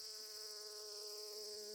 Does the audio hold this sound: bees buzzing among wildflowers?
yes